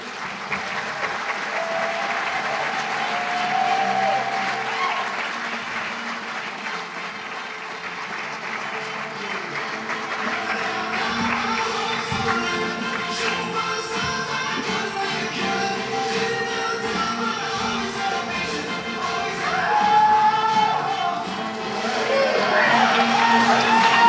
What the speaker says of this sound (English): I'd ask all of you to help me with a round of applause and welcome Abby to the stage to accept her award.